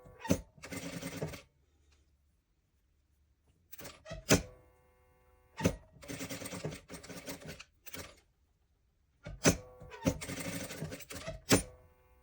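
A sewing machine stitches a toy fox in short bursts of rapid whirring, separated by pauses and sharp mechanical clunks, fairly close and with no talk over the stitching.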